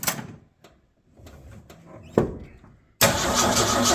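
A 1984 Ford F-250 with a two-barrel carburetor cranking and trying to start, with clunks and a sharp knock before a loud, sustained engine roar kicks in near the end.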